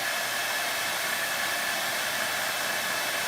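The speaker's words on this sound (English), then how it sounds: "don't have your book of leaf next to you when you have that blow dryer going" A blow dryer runs steadily during a gilding session with metal leaf on a moulded Valentine piece, giving a continuous, even airy whir with no talk over it.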